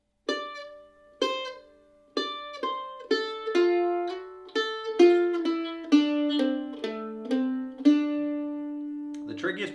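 A simple mandolin lick played alone, with slides and upstrokes: a dozen or so bright plucked notes ringing close and clear in an even, unhurried rhythm, a slid note partway through, ending with a brief rustle.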